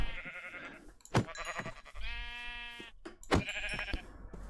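Sheep in Minecraft bleat in a few separate calls, close and clear, with short gaps of quiet between them and no talking.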